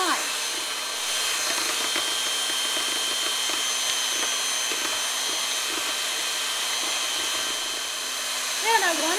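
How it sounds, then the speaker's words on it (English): Electric hand mixer whipping egg whites with confectioner's sugar toward stiff peaks, a steady high whirring drone that runs without break, close and fairly loud. "I want to keep beating until this egg white mixture gets stiff"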